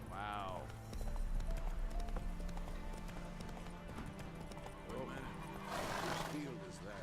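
A horse in The Witcher video game neighs at the start, then hooves clip-clop at a steady run beneath game music and ambience, with a second whinny near the end; people talk over it.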